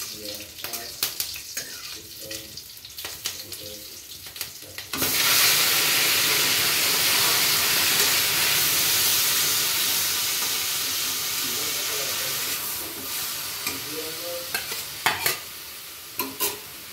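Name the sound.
tempering spices sizzling in hot oil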